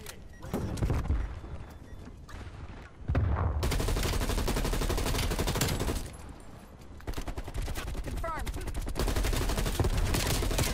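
Gunfire in a shooter video game: dense, rapid automatic bursts, loud and close, broken by short gaps, with a voice partly audible underneath.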